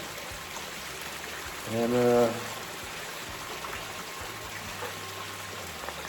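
Water runs steadily into a bucket, a constant soft trickling stream that continues throughout, with a brief spoken word near the start.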